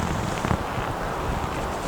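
Wind gusts and buffets against the microphone at Mojicap Lake in a steady, rumbling rush with a slight swell partway through.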